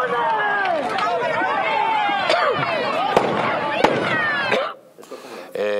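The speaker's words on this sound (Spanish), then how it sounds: "gases lacrimógenos tirando directamente a los agricultores" Tear gas canisters fired at farmers at a tractor protest in Spain, sharp bangs cracking over loud crowd shouting, whistles and chaotic chatter, then a brief drop before the noise resumes.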